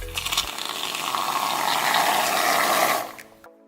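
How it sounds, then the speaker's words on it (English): An aerosol can of shaving cream sprayed out in one continuous, close, loud hissing burst lasting about three seconds, which then tapers off into silence. "squeeze the can very carefully to keep everything on your spoon"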